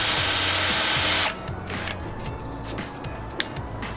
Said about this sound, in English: I'll take a 6mm drill. I'm just going to drill a hole straight through the centre.